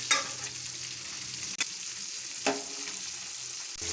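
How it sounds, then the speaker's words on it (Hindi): Eggplants fry in a pan with a steady, close hiss of hot oil, punctuated by a couple of brief clicks or knocks, alone without voices. "बैंगन हमारे फ्राई हो रहे हैं"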